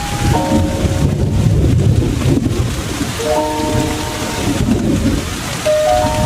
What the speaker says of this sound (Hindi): पूरे पार्क में जोरदार बारिश होती है, कुंडों और गड्ढों को भरते हुए।